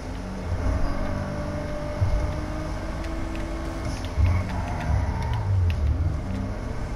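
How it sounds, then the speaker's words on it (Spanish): A car engine in Grand Theft Auto V rumbles steadily close by, swelling a little in a few low surges as it revs, with faint clicks above and no talking. "Qué bien suena, como me gusta este coche"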